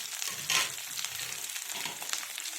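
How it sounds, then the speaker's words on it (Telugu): Onion pieces and green chillies fry in a pan, a continuous close hiss and sizzle with small crackles throughout, no one speaking. "ఈ ఉల్లిపాయ ముక్కలు కూడా బాగా ఫ్రై అవ్వాలి."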